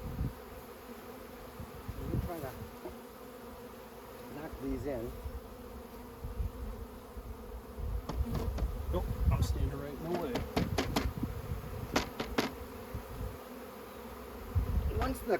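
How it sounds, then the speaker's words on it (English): Honey bees buzzing around a newly installed hive, a steady near hum under intermittent knocking and someone talking. "still have a lot of bees running around here."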